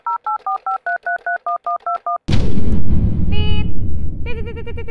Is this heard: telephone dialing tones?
yes